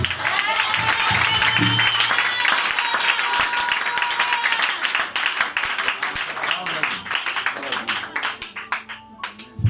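A revival church congregation claps and cheers in acclamation to God, loud dense applause with shouting voices that thins into scattered claps and calls toward the end.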